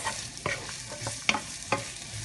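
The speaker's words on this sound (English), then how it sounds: "Just keep stirring. Incorporate the garlic into the veggies." Vegetables and garlic stir-fried in a pan for sweet and sour vegetables, a spatula scraping and clacking every half second or so over a soft steady sizzle, close up with no talking.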